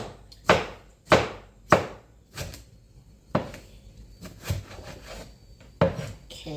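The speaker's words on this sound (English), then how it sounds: "then you just chop it up however you want to chop it" Knife chopping vegetables on a cutting board for a chicken stew and salsa salad, about eight sharp separate thuds at an uneven, unhurried pace, close and clear.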